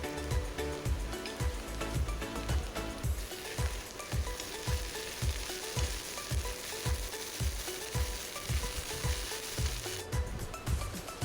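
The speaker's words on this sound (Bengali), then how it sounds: "এখন দিয়ে দেবো আদা।" Ginger fried with garlic in a pan sizzles steadily and loudly, with a regular scraping rhythm from stirring throughout.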